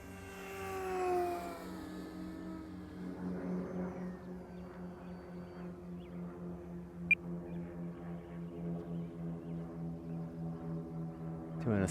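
A Durafly Tundra V3 RC plane makes a fast pass outdoors, its steady electric motor whine rising and holding at a near-constant pitch for several seconds, with a brief click partway through and no talking.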